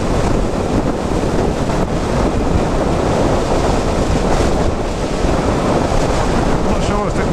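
Strong, steady wind buffets the microphone while riding a motorcycle out through open fields, a continuous loud roaring rumble that never lets up, with no speech heard.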